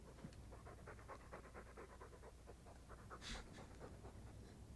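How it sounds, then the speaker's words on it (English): A dog in the fantasy video game Dragon Age II pants steadily and rhythmically, a quick, breathy in-and-out pattern that carries on throughout, quiet but close. "All that noisy dog breath,"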